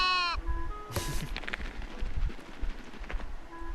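Sheep bleat in the cozy building game Tiny Glade, a wavering bleat opening the clip and more calls following over soft rustling and light clicks, all fairly quiet.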